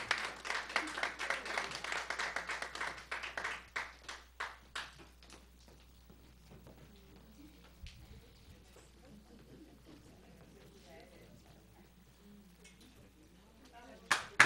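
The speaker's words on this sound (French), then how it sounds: "Applaudissements pour Ossis." An audience applauds a reggae performer with a few seconds of scattered, moderately loud clapping that quickly thins to sparse claps, then gives way to quiet room noise and faint voices.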